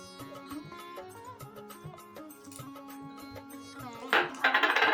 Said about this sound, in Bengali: দিয়ে ভালো করে নাড়িয়ে নিচ্ছি ভালো করে নাড়াতে হবে না হলে নিচে লেগে যাবে